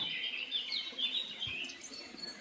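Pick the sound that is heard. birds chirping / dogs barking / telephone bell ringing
birds chirping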